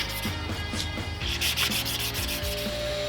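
Guitar necks being hand sanded in a workshop, rhythmic back-and-forth rubbing strokes of abrasive on wood, close and steady over a low musical background.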